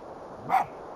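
A fox in the snowy video game Spirit of the North gives a single short, sharp bark, moderately loud against a quiet background.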